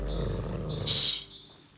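Low, rumbling dog growl from a hunting dog that has tracked down a wild boar in A Plague Tale: Innocence, sustained close up, with a brief brighter burst near the end before it fades out.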